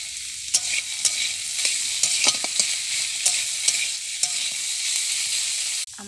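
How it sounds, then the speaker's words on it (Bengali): Ivy gourd (kundri) fries with white sesame seeds in a pan, a close, bright sizzle broken by sharp scraping clicks of a spatula stirring every half second or so, then a sudden drop at the end. "আমার কুঁদরিটা ভাজা হয়ে এসেছে, দেখো কি সুন্দর লাল লাল হয়ে ভাজা হয়েছে।"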